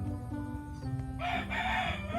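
A rooster crows once, loud and drawn out, over a steady hum of background noise.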